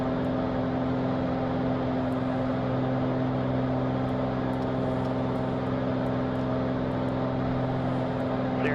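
A Cirrus SR22T light airplane climbs out after takeoff, its piston engine and propeller giving a constant, steady drone heard from inside the cabin with no change in pitch.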